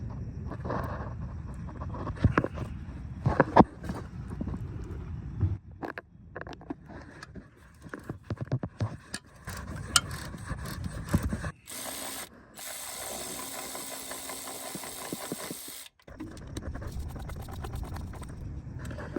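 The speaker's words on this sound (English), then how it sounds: "Now I'm just going to use an electric ratchet to drive it out the rest of the way" An electric ratchet drives a bolt out during oil pan gasket and motor mount work on a BMW N55 535i, heard as close, rapid mechanical whirring and clicking bursts that run on and off through the stretch with clattering tool noises between.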